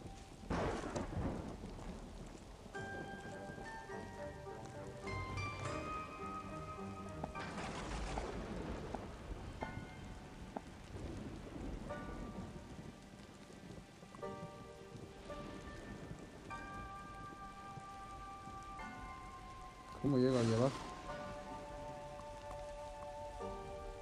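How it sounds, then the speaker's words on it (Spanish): Steady rain patters on surfaces outdoors through the whole stretch while thunder rumbles low in the distance, with faint tonal background sounds and a brief louder warbling noise near the end. "Pues abuelo, te va a quedar aquí la lluvia,"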